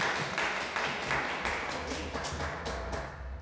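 Church congregation applause for two former leaders at a conference opening worship service, a dense round of clapping that gradually fades, with a faint voice underneath.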